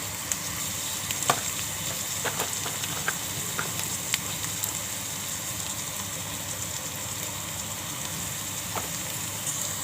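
Asafoetida dropped into hot oil while cooking a snake gourd vegetable dish, producing a steady crackling sizzle with scattered sharp pops, alone and at moderate level.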